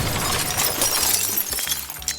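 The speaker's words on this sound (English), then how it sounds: "This thing had a glass top over it, so I turned on the stove and it exploded everywhere." A glass stove top shatters after the stove is switched on, a sustained bright crackling burst of breaking glass, loud and close, with no voices.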